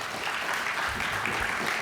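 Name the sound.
audience applause for the Juneau Chamber of Commerce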